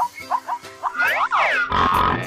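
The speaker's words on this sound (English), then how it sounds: "Pig." A toy-learning pig sound plays: a series of short grunts and oinks close up, building to a longer squealing, rising-and-falling call and ending in a rough snort.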